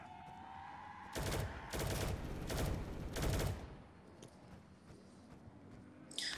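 Gunfire in a zombies shooter video game, four loud bursts of rapid fire in close succession that then fade into quieter background noise.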